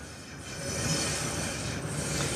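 Steady, continuous ambience at Brno main railway station: a broad rumbling hiss of rail noise that holds at an even level throughout, with no voices.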